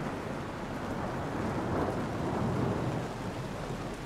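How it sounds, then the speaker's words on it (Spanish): A steady, dense downpour of rain hisses evenly throughout, with a low, rolling rumble of thunder underneath, at moderate volume and with no voices. "Los truenos suenan"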